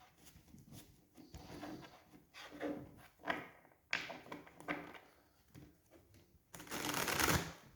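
Tarot cards shuffled by hand, a series of close, crisp riffling bursts and soft slaps in irregular rhythm, ending in a longer louder riffle, with no talking.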